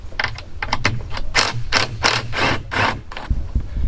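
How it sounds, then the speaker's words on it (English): Impact driver undoing a 10 mm bolt on a camper van's solar panel mount, giving a close series of rapid rattling hammer bursts that speed up, then a brief pause and a final burst. "this is nice and easy because it's on an impact driver"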